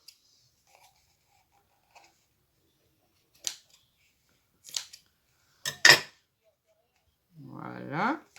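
Scissors cutting a piece of material for a craft project, a few short crisp snips spaced apart, followed by a brief rustle of handling; quiet room, no talking.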